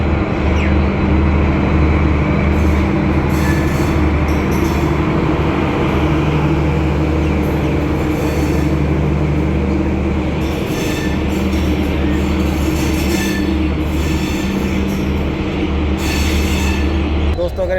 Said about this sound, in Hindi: और ये ट्रेन निकलती हुई।